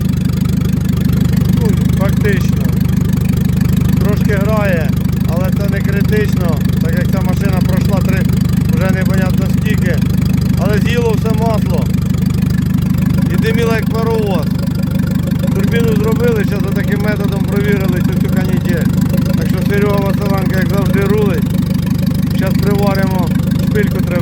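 A Ford Ranger pickup truck engine idles steadily with a low, continuous rumble throughout, its first cylinder misfiring when cold, while someone talks over it.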